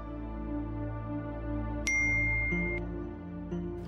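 A phone message alert gives a short bright chime over a low steady background hum, followed by a second fainter ding about a second later.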